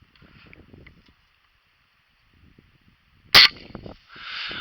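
A pump air gun, pumped ten times, fires a Gamo Red Fire pellet through a thin board, giving one sharp, loud crack after a quiet lull, followed by a brief rushing hiss.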